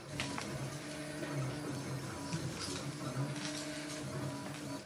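A student-built 3D printer whirs and buzzes steadily, its stepper motors humming in shifting tones over a constant mechanical drone, with faint voices in the background.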